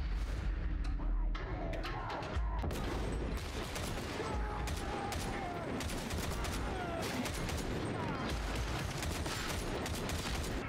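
Gunfire in the Warhammer 40K video game Darktide, with rapid bursts and repeated shots crackling over a busy game soundscape, fairly distant and muffled in the mix.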